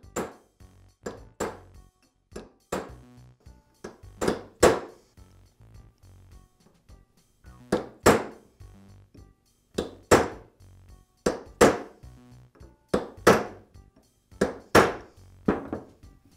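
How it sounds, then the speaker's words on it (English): A hammer taps a new ball bearing's outer race into a Jet drill press: sharp, close metallic knocks in quick clusters of two to four blows, separated by short pauses. "I want to make sure that I'm only tapping on the outer race and being careful not to damage the shields."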